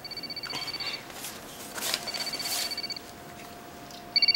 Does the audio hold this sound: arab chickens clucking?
no